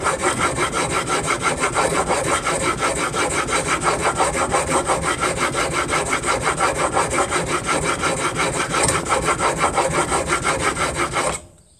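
A steel chisel is pushed back and forth on a sharpening stone clamped in a vise, a steady rapid rasping scrape repeating evenly for about eleven seconds up close, then stopping abruptly.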